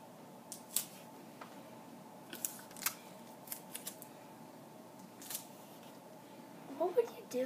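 Scissors snip through paper in short, quiet, scattered cuts under soft indoor background noise, with a light rustle and a couple of brisker snips near the end.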